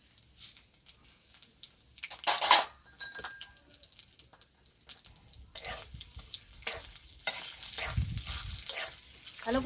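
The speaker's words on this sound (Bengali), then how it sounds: "ভালো করে কিছুক্ষণ ভেজে নেব।" Green chilies, crushed ginger, bay leaf and whole cumin frying in hot oil for moong dal, starting with faint crackles and a clear clink, then building into a louder, dense sizzle with stirring toward the end; no one talks.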